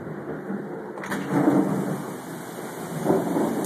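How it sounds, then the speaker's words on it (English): Tropical storm in Destin, Florida, with steady heavy rain and rolling thunder swelling twice, loud and close, no voices. "we are getting the tropical storm right now."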